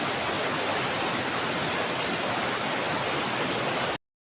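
Strong, fast-flowing water rushes through a stream in a steady, loud, broadband roar that holds constant until it cuts off abruptly near the end.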